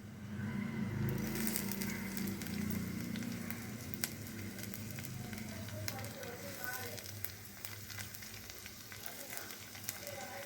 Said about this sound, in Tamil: இதுலேயே பொடியாக நறுக்கின 2 பச்சை மிளகாய் போடுறேன்